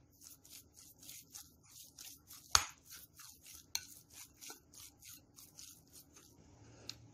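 Rhythmic soft scraping and rubbing repeats steadily as a spoon stirs seasoned ground meat, with a few sharper knocks against a bowl.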